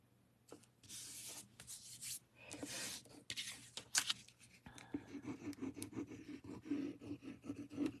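Designer series paper being cut into three pieces on a craft table: a run of dry scraping, slicing strokes in bursts, then a steadier rough rubbing close by, with no talk.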